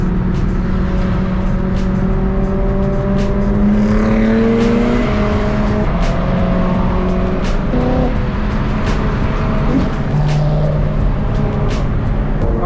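A large group of BMW cars cruises toward Malibu, engines droning and revving loudly and continuously at close range, with no talking.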